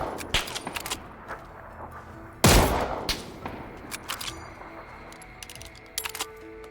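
Several bursts of gunfire in PUBG: Battlegrounds on the Erangel map crackle, with one loud close shot standing out among scattered quieter pops and clicks.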